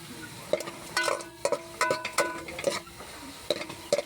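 Garlic browning in a pan over a gas flame, with steady sizzle under repeated stirring and utensil scrapes at close range.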